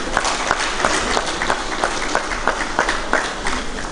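Dense, steady applause from a large audience at the Pan-Ijaw Economic Summit, many hands clapping continuously at close range with no speech over it.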